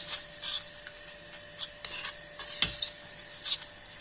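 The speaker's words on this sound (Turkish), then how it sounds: "Şimdi mısır unumuzu biraz kavuracağız." Corn flour is stirred and roasted in melted butter in a pan, producing scraping and rasping strokes from a utensil at an irregular rhythm over a faint sizzle, close and moderately loud.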